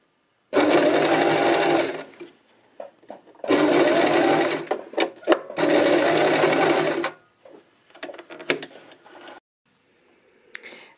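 Sewing machine stitching across the seam of a wide elastic fabric scrunchie, running in three loud, close bursts of steady whirring separated by pauses with small handling clicks and taps.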